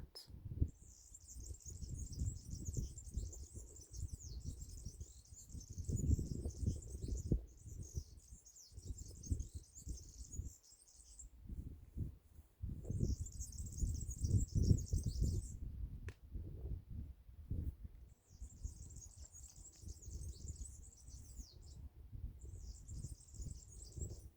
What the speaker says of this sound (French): Écoutez la sagesse de l'oiseau qui chante.